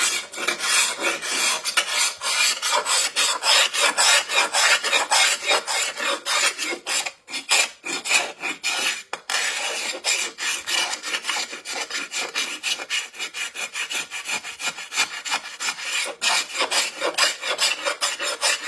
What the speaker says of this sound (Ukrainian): А тепер починаємо зачищати.